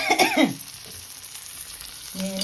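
Ginger and peanut powder roast in a hot pan with a soft, steady sizzle and hiss. A voice is heard briefly at the start and again at the end.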